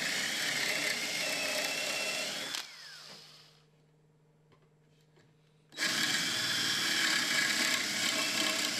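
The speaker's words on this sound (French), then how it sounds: "Forez maintenant tous les trous dans les côtés courts." A power drill bores holes into the short sides of a wooden board, whining loudly for a few seconds, pausing into near silence with a faint hum, then cutting in again at full strength.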